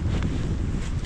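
Strong wind buffets the microphone in a steady low roar on a cold Scottish Highlands trail, with gusty rumbling throughout and no other clear sounds.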